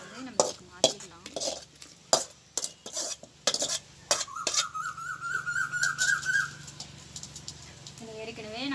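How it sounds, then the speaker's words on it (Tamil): Fried tomato and onion mixture being scraped and spooned from an oil pan into a clay pot, with sharp metal-on-pan knocks and clatters at an uneven rhythm, close and fairly loud, followed by a steadier scraping stir. "இப்போ அதை வந்து நம்ம இந்த மண் சட்டிக்கு மாற்றிக்கலாம்"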